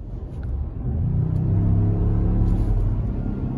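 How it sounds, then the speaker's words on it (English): A 2023 Ford F-150 Tremor with a 400 hp turbocharged engine and dual exhaust revs once, rising to a loud, sustained deep rumble close by. "Feel those turbos spooling."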